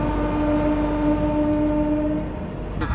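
The 12278 Puri–Howrah Shatabdi Express running past Sakshigopal station: a loud, steady tonal drone like a horn rings over a low rolling rumble for about two seconds, then fades, leaving the rumble of the moving train.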